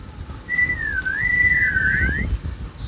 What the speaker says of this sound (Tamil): சரி விசில் அடிப்போம் வாங்க